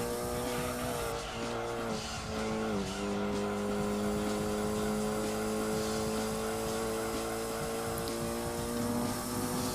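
A race car engine drones at steady high revs in the video game Gran Turismo 2, a continuous harmonic whine with a brief pitch dip and tire noise, the steady hum staying unbroken throughout.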